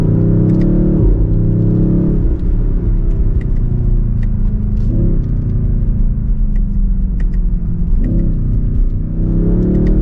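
A 2023 BMW XM SUV's engine and exhaust drone steadily from inside while driving, loud and continuous, with low rumbling that rises and falls through several gear changes.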